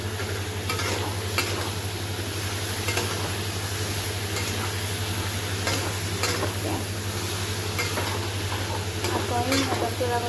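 Squash curry sizzles steadily in a pan while a spoon scrapes and stirs it in a string of irregular clicks and scrapes, with a constant electrical hum underneath.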